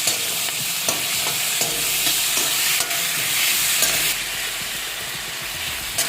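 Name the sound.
tomatoes frying in pan for tomato chutney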